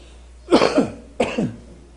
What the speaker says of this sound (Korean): 기침이 자꾸 나오네요